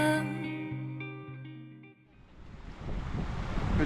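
A river in the Aisne valley, France, rushes steadily after a short passage of music fades out, the water noise swelling louder toward the end, with no speech.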